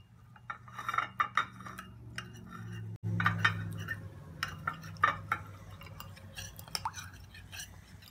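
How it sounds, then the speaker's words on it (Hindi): A spoon stirs cornflour into a lemon cream mixture in a bowl, with soft repeated scraping and clinks over several seconds and one sharp knock partway through, close and quiet with no talking. "इसमें हम डालेंगे कॉर्नफ्लोर हाफ टेबल स्पून और इसे मिक्स करेंगे"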